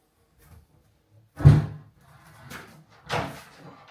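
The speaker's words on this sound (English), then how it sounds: "Bloody door." A household door is opened and shut, giving a sharp knock followed by two softer thuds and rattles spaced about a second apart in a quiet room.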